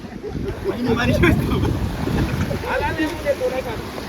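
A cold sea breeze buffets the microphone on a seashore during a film shoot, a gusty rumble that rises and falls under nearby talking, with a boat or surf faintly in the background.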